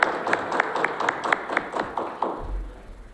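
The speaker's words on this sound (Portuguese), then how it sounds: "A todos, a nossa salva de palmas." A ceremony audience for Waiters' Day claps in a short run of evenly spaced, crisp taps. The rhythm loosens and fades after about two seconds, and a low thump follows.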